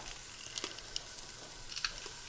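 Garlic frying in a pot gives a soft, continuous sizzle with faint crackles and a few brief stirring scrapes, quiet and close with no talking.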